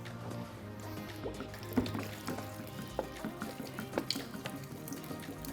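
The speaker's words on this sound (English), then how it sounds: "pour the remaining water over the filter" Water pours over the filter of an Alto commercial cold brewer, a quiet, steady splashing trickle with a few soft drips and clinks.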